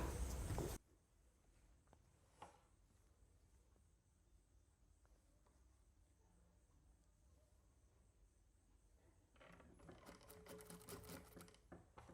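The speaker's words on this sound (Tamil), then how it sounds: "அதை வந்து இடி வச்சுட்டு நம்ம தையல் போட்டு எடுத்துக்கலாம்." Sewing machine stitching a cotton silk saree blouse: a short loud mechanical burst at the very start, near silence, then a steady run of rapid stitching toward the end, with no talking.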